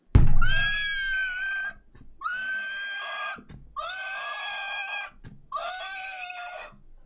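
A horse whinnies four times. Each call is loud, drawn out and strongly tonal, with brief pauses between them.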